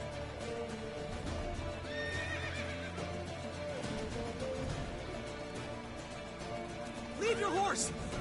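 A horse whinnies loudly near the end amid hoof clip-clops and outdoor ambience in The Witcher 3 around Novigrad, with people talking underneath throughout.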